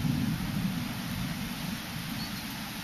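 Steady heavy rain heard from a patio during a thunderstorm, a dense constant hiss with a low rumbling undertone throughout, no voices.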